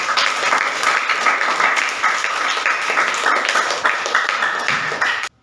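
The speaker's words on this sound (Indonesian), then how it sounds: "kasih plus tepuk tangan untuk kelompok" A classroom of students claps together in sustained applause for a presenting group for several seconds, then it stops abruptly.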